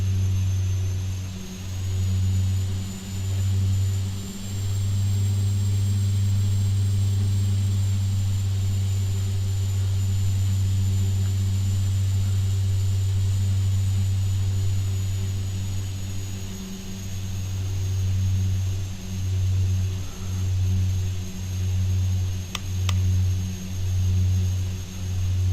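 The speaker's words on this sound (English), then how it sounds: "Because the engines are both running nice and smoothly." Aircraft engines running smoothly in flight on an IFR training trip, a loud steady drone with a low throbbing pulse that swells and dips rhythmically, heard close from inside the cabin.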